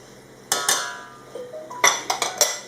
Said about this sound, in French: Et je vais bien mélanger le tout à froid avant de le porter sur le feu